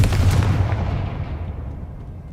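A Confringo fire spell explosion in the video game Hogwarts Legacy, a loud, deep booming blast that rumbles and fades away over about two seconds.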